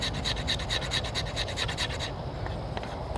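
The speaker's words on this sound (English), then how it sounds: "let's just see if it scrapes the fat wood better now" A bushcraft knife, its spine edge burred, scrapes along a stick of resinous fatwood in a rapid series of rasping strokes for about two seconds, then a few lighter scratches follow.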